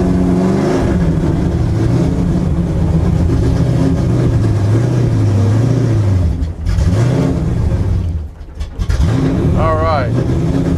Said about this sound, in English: This is a loud car.